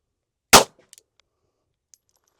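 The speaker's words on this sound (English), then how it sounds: "Let's get shooting." .380 pistol firing a Hardcast round, one sharp, loud report followed by faint clinks and small scattered ticks.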